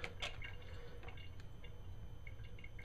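A small splash of water pours onto chicken coated in a barbecue rub, heard as light drips and trickles close by over a steady low background hum, with no talking.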